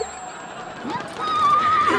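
A horse whinnies loudly in a long, wavering neigh, with clip-clopping and background sounds around it.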